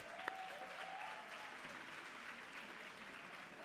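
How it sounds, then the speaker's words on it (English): A workshop audience of maths students claps together in a room, the applause faint and distant, a steady soft patter lasting a few seconds after one sharp click at the start. "let's give her a nice round of applause"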